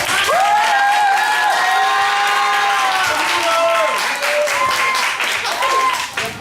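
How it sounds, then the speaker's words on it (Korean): A school assembly applauds as the math teacher comes out, with loud, sustained clapping and excited cheering from students over it. Shrill voices rise and fall above the claps before the applause starts to thin out. "나오실 때 크게 박수해 주세요"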